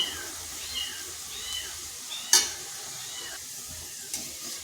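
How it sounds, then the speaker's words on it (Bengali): Sliced onions fry in hot oil for chicken biryani, a continuous crackling sizzle broken by a few scraping stirs of a spatula, including one sharp clank against the pan. "বাকি পেঁয়াজটা এইভাবে লাল লাল করে ভেজে নিয়েছি।"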